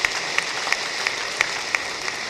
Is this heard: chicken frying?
no